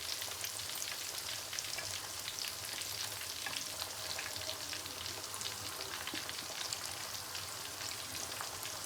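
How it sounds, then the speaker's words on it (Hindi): Hot oil spooned over Lahori chicken chargha frying in a pan, a dense continuous sizzle with fine crackling pops, steady and close, no talking. "अब मैं थोड़ा थोड़ा ऑयल लेकर और इस तरह के एक डीप चम्मच से आप लोग भी इसके ऊपर ऑयल डाल सकते हैं"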